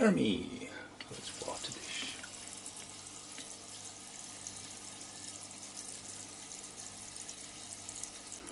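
Water poured onto a plant, a close splashing gush at the start that fades into a faint trickle and drips, with low background noise afterward.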